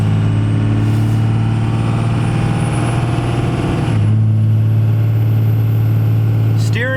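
A wide Duramax diesel truck passes on the road behind, heard from inside a moving vehicle as a steady low engine drone, with a brief air-brake-like hiss near the end.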